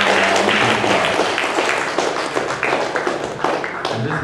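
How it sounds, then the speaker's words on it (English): A workshop audience applauds a speaker, with steady close clapping from a small room that stays dense throughout and fades slightly near the end. "let's have another round of applause for Paul"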